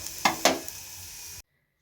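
Potatoes and beans fry on a gas stove, two sharp sizzling bursts and stirring scrapes over a steady hiss, then the sound cuts to silence.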